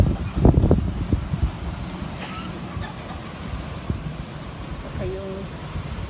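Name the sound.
strong wind outdoors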